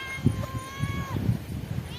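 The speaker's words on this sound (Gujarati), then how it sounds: "બિલાડા પણ આવી ગયા છે બધા।" A single drawn-out cat meow rises and falls, close by, over low murmuring voices at a buffalo farm at night.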